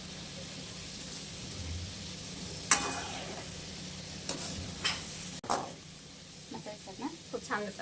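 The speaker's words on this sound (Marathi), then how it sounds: "हिरव्या मिरच्या तळून घेऊयात आपण" Green chillies frying in hot oil give a steady faint sizzle, broken by a few sharp crackles and pops and light clatter from stirring toward the end.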